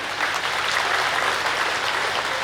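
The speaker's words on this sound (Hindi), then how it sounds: "तो इस संकल्प के लिए जोरदार तालियां बजा देंगे आप सभी।" An audience claps loudly and steadily at a spiritual gathering, a dense wash of many hands holding an even level without pause and no voices over it.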